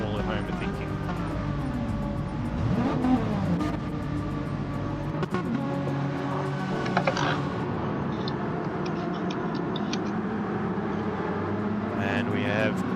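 Race cars pulling out of the pit lane at the Nürburgring in a sim-racing esports endurance event, with engine whines rising and changing pitch over a busy background; a commentator talks throughout.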